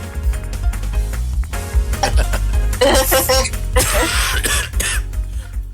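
Several harsh, raspy coughs in a row, loud and close, with a clatter of dishes or utensils underneath.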